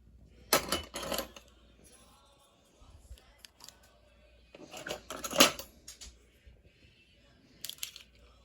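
Metal teaspoons grabbed in a handful and dropped, giving bursts of bright clinking and rattling clatter in three separate clusters with quiet handling noises between, close to the microphone.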